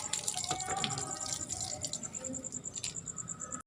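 Tap water runs while hair is being rinsed before shampooing, giving a steady splashing and trickling close by with scattered drips, clatter and faint background sounds.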